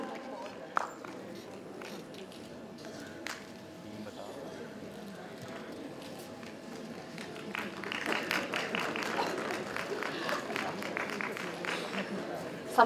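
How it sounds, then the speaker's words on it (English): A conference audience breaks into applause, a soft patter of clapping that swells to a sustained burst in the latter half, heard somewhat distantly against quiet room noise. "A big round of applause"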